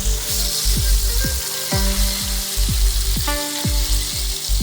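A lamb burger patty sizzles loudly in a pan, a close, dense frying crackle with repeated low thumps and scrapes as it is moved, and no voices.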